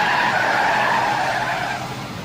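A car skids hard along the road, a loud, sustained tire squeal that holds steady for about two seconds, then eases slightly as it ends.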